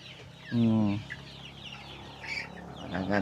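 Six-week-old pullets clucking nearby, a few short bursts separated by pauses, with faint background noise.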